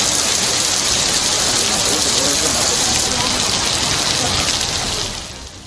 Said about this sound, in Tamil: திடீரென கனமழை பெய்தது